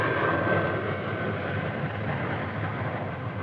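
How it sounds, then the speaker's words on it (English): A C-5 Galaxy military transport aircraft lands with a loud, steady, broad engine roar and rumble that holds unbroken from start to finish. "peaking with the landing of a C-5 Galaxy, the world's largest aircraft"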